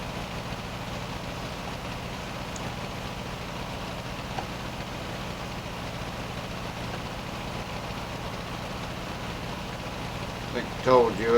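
A 1953-era farm tractor's engine idles steadily in a low, even drone throughout, moderately close, with a brief clatter near the end.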